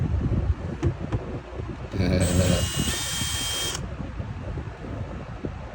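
An electric drill boring a hole through the C6 transmission pan on a 1965 Ford Galaxie 500 Convertible, a loud whining burst lasting under two seconds amid outdoor noise and a voice.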